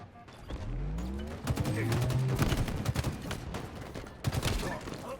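Sniper rifle fire during a Halo Infinite match: a loud burst of sharp, rapid cracks packed close together, with a low droning hum and other battle noise underneath.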